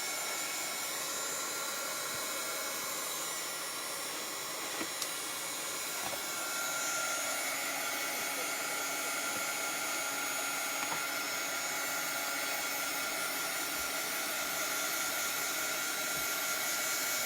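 A hair dryer blows with a steady, loud, close whooshing roar, drying a chalk paste craft project, the airflow shifting slightly in tone as it is moved, with no talking.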